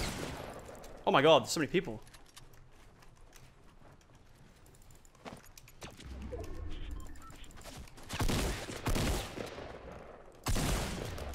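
Fortnite Battle Royale gunfire in bursts of sharp game shots late in the clip, earlier mixed with a quick exclamation from a player over quieter game ambience.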